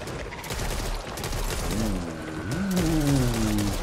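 Gunfire in the zombie shooter game Back 4 Blood rattles in a dense, rapid stream of shots, with a rising tonal call or groan sweeping through partway.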